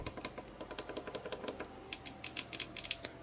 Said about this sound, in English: All these side buttons right here start. I don't know if you can hear them clicking.